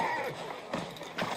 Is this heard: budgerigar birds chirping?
no